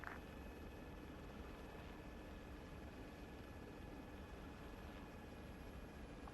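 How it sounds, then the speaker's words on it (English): Military video game helicopter rotor noise, a steady low broadband drone with a faint whine, heard as from inside the cabin, constant and quiet with no talk. "Can't hear myself think over this helo."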